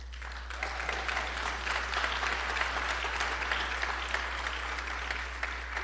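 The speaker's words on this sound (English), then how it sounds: "Everyone give Congressman Norman a round of applause" A forum audience applauds Congressman Norman, a gubernatorial candidate in South Carolina, with steady, dense clapping that holds at an even moderate level throughout, a low hum running beneath it.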